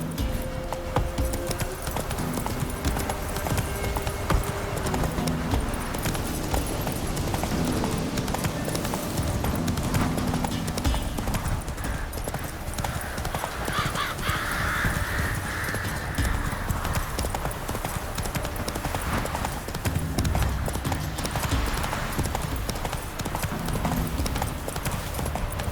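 Roach the horse gallops in The Witcher 3, a steady rapid clip-clop of hooves running on and on for about twenty-five seconds, mixed with game ambience and an occasional snort.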